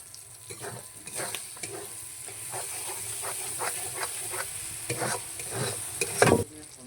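Tomatoes are stirred into a frying masala for a home-style chicken curry, giving a steady hiss and sizzle of oil broken by repeated scraping stirs that swell louder near the end, close and without speech.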